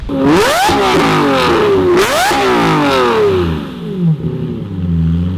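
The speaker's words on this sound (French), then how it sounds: "un échappement Fab Speed qui fait mais un bordel de fou" A Lamborghini Murcielago LP640 fitted with a Fab Speed exhaust is revved hard twice in quick succession, each rev rising to a loud, raspy howl before falling away, then it settles into a burbling idle, close by.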